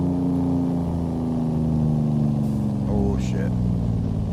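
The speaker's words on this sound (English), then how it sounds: "We need some more engine sound chat, do you think?" A truck engine in American Truck Simulator drones loud and close as a continuous low hum with a slowly rising pitch, and a brief voice-like sound cuts in near the middle.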